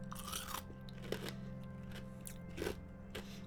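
Quiet, close crunching bites and chewing of crunchy food, a few sharp crackly chews spaced across the moments with no talk.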